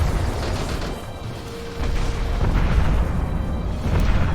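Explosions from a spaceship being destroyed in the space strategy game Sins of a Solar Empire: Rebellion, running a mod, roll out as dense, rumbling booms that swell and keep going for several seconds, with no voices.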